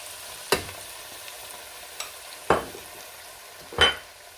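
Soaked red lentils are stirred into a pot for Turkish lentil soup, a spoon knocking and scraping the pot in four separated strikes over a soft background sizzle, without speech.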